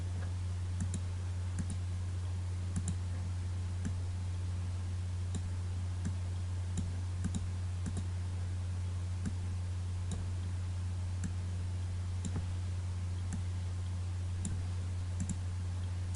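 Computer mouse clicks while working in Photoshop, sharp isolated clicks spaced irregularly over a steady low electrical hum, no talking.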